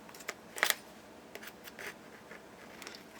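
Scissors slide into wrapped yarn with several brief, close scraping and snipping sounds, one sharper metallic click near the start followed by softer scratches.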